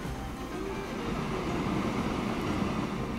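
A train in the Transport Fever simulation game rumbles steadily along the rails, a continuous broadband roll with faint wheel noise, moderately loud and unbroken, with no talk.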